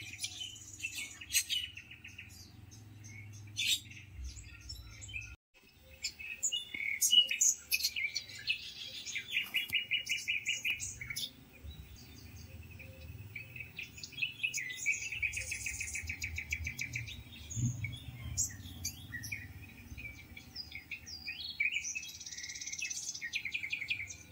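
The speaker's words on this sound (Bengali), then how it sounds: "প্রচুর পাখি, সব" Many birds chirp and call outdoors in sunshine near a mango tree, a busy overlapping chorus of tweets and trills at moderate distance, with faint insect buzzing underneath.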